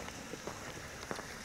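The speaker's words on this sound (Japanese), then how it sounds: "この雨が降るかもしれないって言ったから、ちょっと降ってきやがったな" Light rain falling steadily outdoors at night during a visit to a reportedly haunted spot, a soft continuous patter with a few slightly louder drops, no voices.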